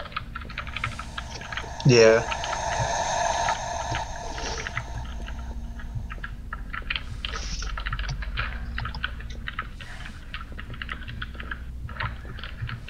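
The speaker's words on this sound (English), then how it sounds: "And your typing is actually probably louder than you think it is." Soft, rapid keyboard clicks patter on and off under a low background hum, with a brief spoken word early on.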